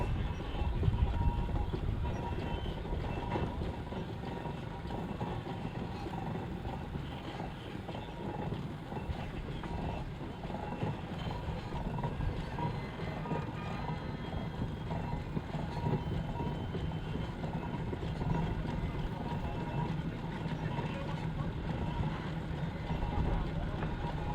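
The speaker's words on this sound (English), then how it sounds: "Marshall traction engine." A steady, heavy mechanical rumble of a Marshall steam traction engine running continuously, with faint rhythmic chuffing and clanking and some outdoor background noise at a steam show.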